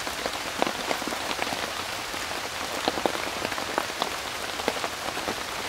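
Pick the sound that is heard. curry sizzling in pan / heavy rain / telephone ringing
heavy rain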